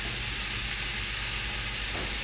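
Squash with a high moisture content sizzling loudly in a hot pan, a dense continuous hiss that stays close and steady from start to finish, with no talking.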